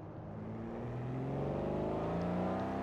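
A car engine revs steadily higher while driving in the racing game Forza Horizon 4, a loud rising drone with layered harmonics that climbs smoothly through the gears with no talk over it.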